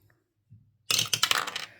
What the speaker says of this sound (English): let's roll this dice twice.